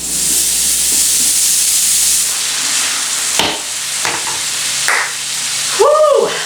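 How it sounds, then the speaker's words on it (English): Ground beef browning in a hot skillet over medium-high heat, a loud, steady close sizzle and hiss with occasional scraping stirs, and a brief voice near the end. "Return skillet to medium-high heat, add beef, and cook, stirring occasionally until the beef is brown"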